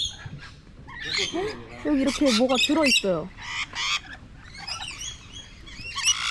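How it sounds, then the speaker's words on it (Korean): Parrots squawk and chatter in short, harsh bursts close by, with someone talking between and over the calls. "앵무새잖아. 너무 예쁘다."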